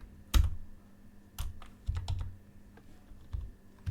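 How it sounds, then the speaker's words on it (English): Keys clack on a liquid-damaged computer keyboard, a few heavy, uneven presses with sharp thuds and softer taps between them, close by with no talking. "my keyboard is actually acting up now"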